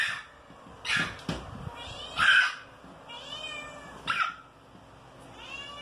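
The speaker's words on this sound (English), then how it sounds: "Yell at my cat until she shuts up." A pet cat meows repeatedly and insistently, several loud drawn-out calls spaced a second or two apart, close to the microphone in a quiet room.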